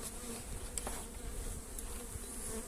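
Honey bees buzz steadily at a tall hive during a spring rapeseed nectar flow, a dense close-up drone with individual bees briefly passing nearer.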